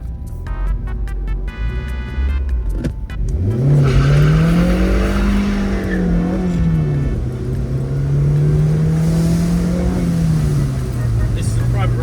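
A 2006 Mazda MX-5 NC engine cranks and starts with a few clicks, then revs up and settles into a steady hum as the car pulls away and drives on a private road.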